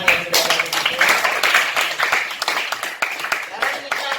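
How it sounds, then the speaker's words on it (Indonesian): A classroom of students claps for their classmates, a steady, dense patter of many hands lasting several seconds with a few voices mixed in. "sekarang kita beri tepuk tangan untuk teman-teman yang sudah ada di situ"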